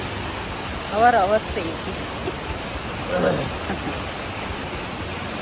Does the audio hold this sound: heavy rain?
yes